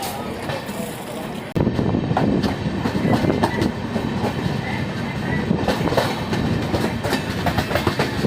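The Lichchavi Express with new LHB coaches pulls out of a station, its steady rumble and rhythmic clickety-clack of wheels loud and close after a sudden onset, with a voice briefly audible.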